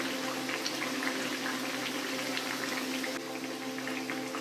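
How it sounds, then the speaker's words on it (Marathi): Alu vadi, rolled colocasia leaf slices, frying in hot oil, a continuous even bubbling sizzle at moderate level, steady throughout with no speech. "दुसऱ्या बाजूने सुद्धा आपल्याला अळूवडी खमंग तळून घ्यायची आहे"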